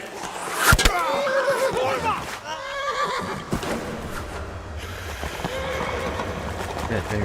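A horse whinnies loudly near the start in Kingdom Come: Deliverance, then hoof clops and shuffling follow with game voices speaking over a busy background.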